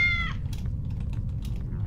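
A cat meows once in the video game Project Night, a short falling meow at the start followed by quiet ambient clicks and a low rumble.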